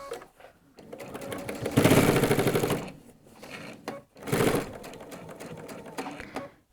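A sewing machine stitches a jacket side seam, running in two long bursts of steady rapid needle chatter with a brief pause between them where the fabric is pivoted at a triangle point, fairly close and alone.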